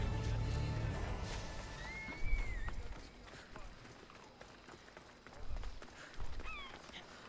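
A horse in the video game Assassin's Creed Odyssey gallops with rhythmic hoofbeats and gives a rising whinny, then later a second shorter neigh over continuous game ambience.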